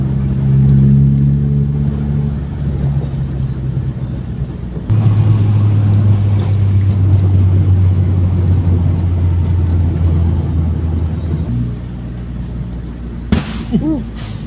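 A truck's engine drones loud and close as it passes on a winding mountain road, with a steady low rumble that shifts pitch midway and eases off near the end.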